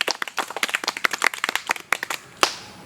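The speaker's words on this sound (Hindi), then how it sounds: "ताली बजा जोरदार ताली बजाइए।" Loud, uneven hand clapping from a small group at a rural village wedding, with sharp close claps scattered in an irregular rhythm. One especially hard clap lands near the end.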